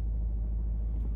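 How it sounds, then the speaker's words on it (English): Passing road traffic gives a strong, steady low rumble with a windy outdoor feel, heard briefly and fairly close, with no talk over it. "bit of traffic"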